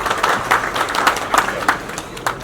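An audience at a police commissioner's meeting with industrialists claps in a rhythmic, fairly sparse patter of individual hand claps, moderately close, over a low background murmur.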